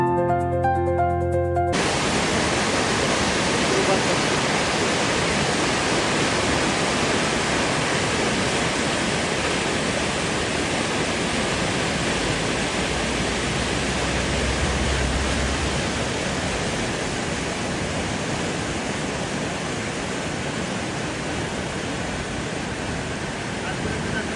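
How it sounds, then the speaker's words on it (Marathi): River water rushes strongly in monsoon flood, a dense, loud, unbroken roar that holds steady throughout, with a brief tonal sound at the very start. "आता पावसाळ्यात इथे किती जोराने पाणी वाहत आहे"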